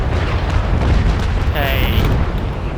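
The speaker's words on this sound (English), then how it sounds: "And then he's going to fire a broadside and it should miss." Cannon fire from a ship's broadside rumbles through a naval battle in a sailing-warship game, a dense, loud roll of overlapping booms, and someone talks over the barrage.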